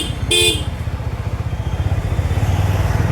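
A 200cc motorcycle in rain riding mode throbs steadily while being ridden, its engine pulsing rhythmically and building slightly, with a brief horn toot near the start.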